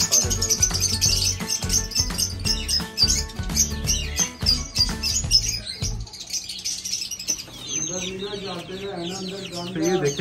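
Young chicks and chickens in an enclosure chirp and cluck continuously in a busy, overlapping chorus, with high peeping calls dominating and a voice talking over them partway through.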